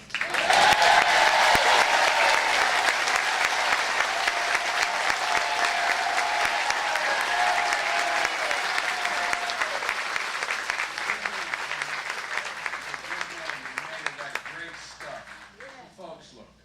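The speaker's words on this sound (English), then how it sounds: "let's give another applause to Colonel Ted" A political rally audience applauds Colonel Ted with loud, dense clapping and crowd noise that starts strongly, holds for many seconds and gradually thins toward the end, while a voice speaks over it.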